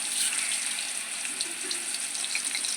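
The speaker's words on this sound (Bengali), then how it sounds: "কচুটা ভেজে নিচ্ছি" Pieces of sola kochu (taro) frying in hot oil in a heated kadai, giving a steady, close hiss and sizzle with fine crackling throughout and no talk.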